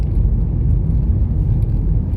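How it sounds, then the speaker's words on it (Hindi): Car on spiked winter tyres driving along a snowy road around Tromsø at about 30 km/h, a steady, loud low rumble of engine and tyre noise with no talk. "मैं 30 स्पीड पे चला रहा हूँ"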